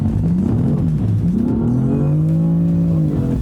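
Car accelerating hard out of a corner, engine pitch climbing in a long rising rev with a brief dip, loud and close throughout, no voices.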